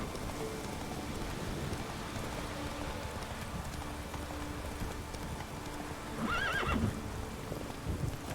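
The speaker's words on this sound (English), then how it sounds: "Whoa there, Roach" A horse in the video game The Witcher 3 lets out a short whinny near the end, over steady rain and soft clip-clopping hooves.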